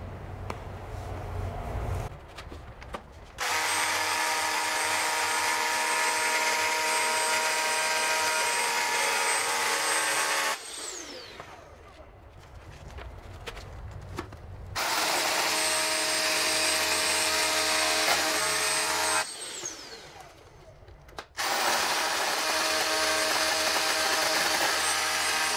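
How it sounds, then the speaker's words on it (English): A power drill whines loudly in two long bursts with a shorter run at the end, each stopping abruptly, with quieter handling noise in the gaps. "now I changed the drill bit and we are going to make the final holes"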